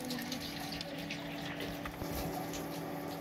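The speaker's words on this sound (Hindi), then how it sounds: "इसमें हम डालेंगे ठंडा पानी और इसको हम अच्छे से निचोड़ लेंगे" Cold water poured from a tap or vessel over soaked soya chunks in a kitchen, a steady full splashing rush that runs unbroken and close throughout.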